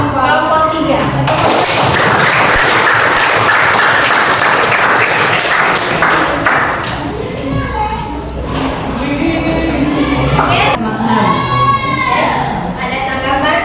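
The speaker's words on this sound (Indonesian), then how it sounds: "jadi kita beri aplaus untuk" A classroom audience applauds a student group in an arts and culture class, a loud, dense burst of clapping that fades after several seconds into murmuring voices and scattered sounds.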